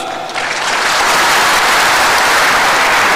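Loud, dense audience applause after a political speech, rising quickly and then holding steady, with no talk over it.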